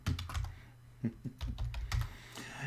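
Rapid typing on a computer keyboard, a quick uneven run of sharp clicks and taps close up, fairly quiet and with nobody speaking over it.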